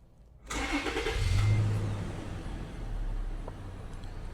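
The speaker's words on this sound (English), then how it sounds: "So we're going to start the vehicle." A Toyota FJ Cruiser engine cranks and catches after a brief silence, then settles into a steady low idle, close and alone.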